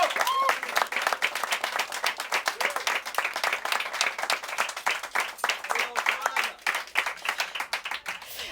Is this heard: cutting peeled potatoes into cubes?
no